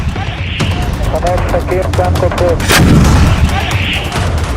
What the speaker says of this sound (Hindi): जवाब है इजराइल के टैंक से अटैक।